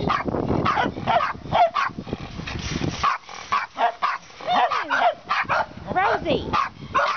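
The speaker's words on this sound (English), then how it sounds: "do not bark at other dogs like that" A dog barks and whimpers in short, repeated bursts, with a person talking in between.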